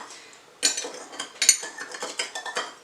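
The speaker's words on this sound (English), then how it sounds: "So right now I'm using a spoon. You're just going to stir this up." A spoon stirs lemon bread batter in a bowl, making a few close scraping, clinking strokes that start after a quiet moment and repeat unevenly, with no voices.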